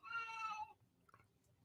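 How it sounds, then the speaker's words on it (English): A house cat meows once, a drawn-out, clearly voiced call at close range, followed by quiet room sound and a faint soft thump. "That was the cat."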